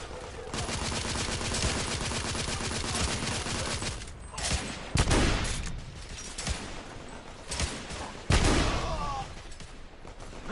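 Rapid gunfire in The Order: 1886. Sustained automatic bursts rattle densely, broken by several sharper, heavier shots near the end, with faint voices under the shooting.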